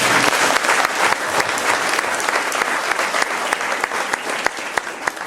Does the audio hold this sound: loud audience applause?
yes